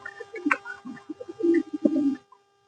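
A pigeon, one recently hatched from a taped broken egg, coos up close in a series of low throaty phrases with short gaps, then falls silent.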